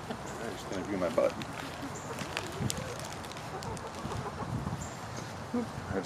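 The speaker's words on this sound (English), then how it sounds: "I'm going to go say hello to the chickens this morning." Chickens cluck and murmur in a morning farmyard setting over steady broadband background noise, with occasional short calls standing out and a person talking at times.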